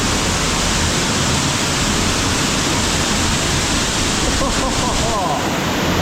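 A powerful waterfall thunders inside a cave in Bali, a dense, unbroken roar of crashing water filling the space, loud and close with no pauses.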